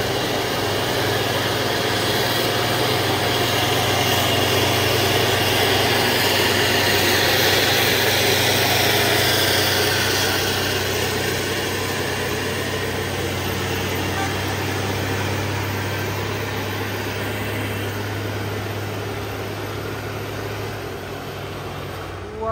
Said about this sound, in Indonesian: Oh, melaju sama-sama Hino semua.